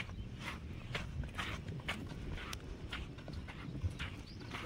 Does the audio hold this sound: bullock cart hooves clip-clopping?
yes